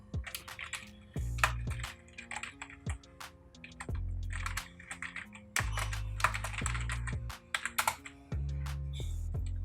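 Rapid clacking of keys on a computer keyboard while a Java program is written, uneven bursts of crisp taps with short pauses, close up and with no talking.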